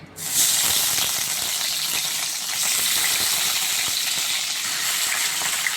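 Chopped eggplant (brinjal) sizzles and crackles steadily in hot oil, a loud continuous frying hiss with no talking.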